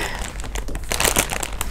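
Crinkly plastic toy surprise bag being torn open and handled up close, with dense rustling and crackling that swells in the middle, no talking.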